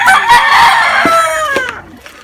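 Chickens clucking and squawking loudly up close, with a rooster-like call rising over the flock and a few sharp clucks trailing off.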